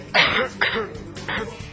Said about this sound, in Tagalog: Inuubo talaga ako.